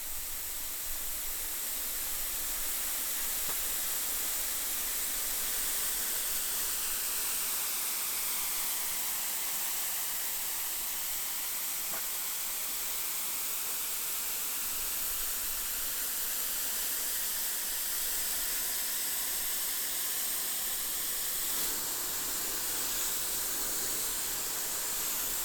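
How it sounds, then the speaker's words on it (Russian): Steam hisses steadily out of the valve of a pressure kazan used to cook Azerbaijani piti soup with meat and chickpeas, a loud continuous broadband rush that holds for the whole stretch with no talk over it. "пока казан выпускает последний пар"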